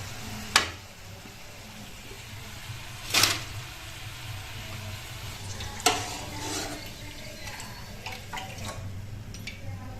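Punugulu fritters fry in hot oil with a steady, soft sizzle and bubbling throughout, punctuated by a few sharp clinks and scrapes of a utensil against the pan; no one speaks.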